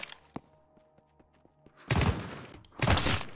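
Gunfire in a shooter video game on the Deathly Stillness map: faint scattered ticks and thumps, then two loud, sustained bursts of rapid shots close up.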